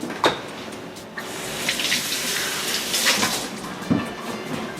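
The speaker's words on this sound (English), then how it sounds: "just want to rinse off my ladle" A ladle is rinsed under a running kitchen tap, with a steady rush of water and a few knocks and clinks of the ladle against the sink, close by and without talk.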